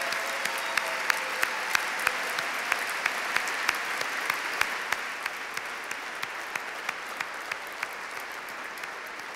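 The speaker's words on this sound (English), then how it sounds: "So please join me in giving them all an incredible round of applause." Indoor audience at an LGBTQ youth charity gala giving a sustained round of applause, dense and steady for the whole stretch, with a few sharp individual claps popping out above the wash and the volume easing slightly toward the end.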